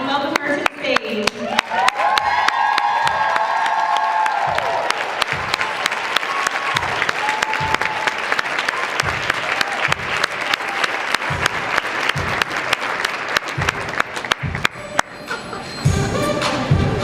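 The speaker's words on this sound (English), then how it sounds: "give her a really loud, totally 80s rock star applause" Loud, enthusiastic applause with cheering from a fitness training crowd at a Beachbody Super Saturday event, dense clapping and whoops sustained across about seventeen seconds, with some vocal shouts mixed in.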